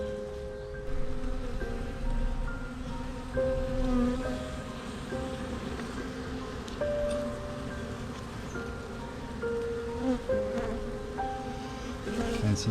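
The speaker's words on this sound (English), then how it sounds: "But there's plenty bees in here." A dense, continuous drone of many honey bees buzzing close by in a cavity nest under a bath, steady and loud, with wavering individual tones rising and falling throughout.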